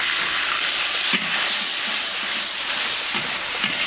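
Chopped chili being stir-fried in a hot wok, a loud continuous sizzling hiss with occasional scraping stirs, no voices.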